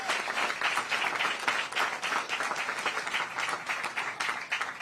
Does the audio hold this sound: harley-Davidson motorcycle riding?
no